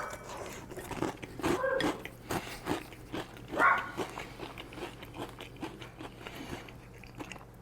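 Crisp biting and crunching into a crunchy carnivore taco shell with no corn, several sharp close crunches followed by chewing, no talk.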